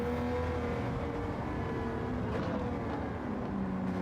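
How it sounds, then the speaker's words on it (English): A race car engine roars steadily at high revs down the Daytona straight in a racing game, loud and continuous with a deep droning tone and no talk. "Car definitely sounds like a monster."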